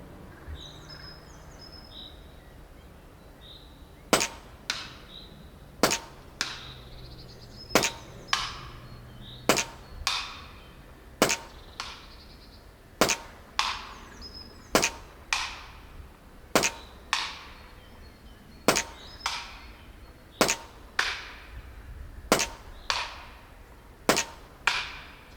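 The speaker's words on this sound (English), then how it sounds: "now it's time to shoot at some cans" Huben GK1 pistol airgun fitted with a carbine kit firing at cans outdoors: about fifteen sharp, loud cracks spaced roughly one to two seconds apart, each with a short ringing tail, over faint background birdsong.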